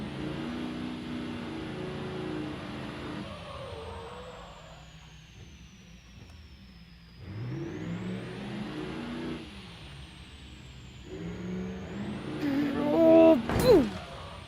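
Loud diesel truck engines rumble and rev in a smashing-trucks derby video game, a steady low drone that swells and dips, with a sharper crash-like burst near the end and a voice talking over parts of it.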